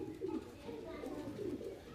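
Pigeons in a loft of Rajasthani Kalmoye birds give low, rolling coos, repeated steadily and close by, with a faint voice underneath.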